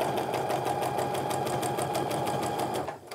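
Sewing machine chain piecing quilt rows for a modern bargello quilt, a close, steady rapid needle rattle with a humming motor that runs evenly and stops just before the end.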